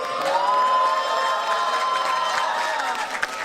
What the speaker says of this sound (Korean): 네, 박수는 공평하게 부탁드립니다.